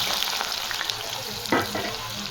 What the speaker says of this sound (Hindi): कोरमा हमारा भुन रहा है